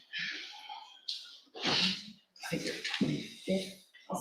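A sneeze bursts out in a courtroom during a live session, a sharp breathy snort amid close, moderately loud sounds of breathing and movement.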